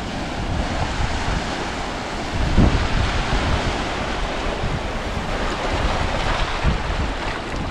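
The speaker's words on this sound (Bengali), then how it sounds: "এখন নীল পানির কিছু ঢেউ এখন আপনাদের দেখাবো।" Sea waves at Chera Dip off Saint Martin's Island wash in a continuous broad surf roar, up close, with heavy wind buffeting over the microphone and a slightly louder surge midway.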